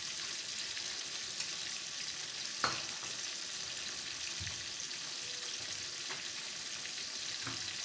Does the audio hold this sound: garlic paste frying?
yes